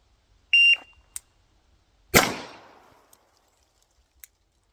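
A shot timer gives one short, steady electronic beep during a handgun training drill, then a loud, sharp gunshot follows with a decaying crack, and small clicks and taps come before and after.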